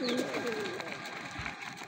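Pigeons at morning feeding coo softly with low, rolling calls, faint and close, alongside a few brief higher chirps and light background rustle.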